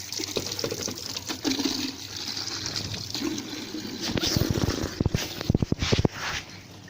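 Water splashes and pours steadily into a container nearby, with a few sharp knocks and clatters toward the end.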